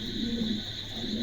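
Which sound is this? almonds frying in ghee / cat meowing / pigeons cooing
pigeons cooing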